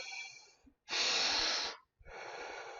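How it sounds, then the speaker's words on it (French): A person doing a deep belly breathing exercise, drawing in a long, strong breath and then letting it out naturally, with each loud, airy breath close up and separated by short pauses. "on va prendre une respiration le maximum d'air. Puis ensuite, on expire de façon très naturelle."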